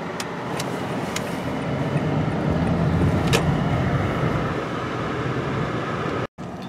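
A car rolls slowly through the Bearizona drive-thru wildlife park in Arizona, a steady mid-level road and engine hum with a few faint clicks and taps, briefly cutting out near the end.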